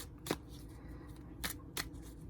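Gilded Reverie Lenormand cards being shuffled and drawn, three quick papery riffle bursts separated by quiet gaps, close and soft with no talk.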